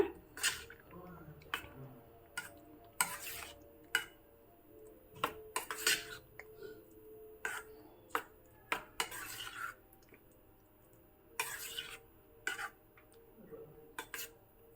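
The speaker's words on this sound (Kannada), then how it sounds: "ಇದನ್ನು ಚೆನ್ನಾಗಿ ಮಿಕ್ಸ್ ಮಾಡೋಣ" A raw banana dish with lemon, garlic and chilli is mixed in a metal vessel, giving repeated close clinks and scrapes of a spoon in irregular bursts over a quiet background.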